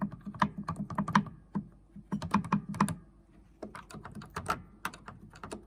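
Rapid clusters of light clicking harmonium keys knocking against each other, close and crisp, coming in quick bursts with brief pauses between them.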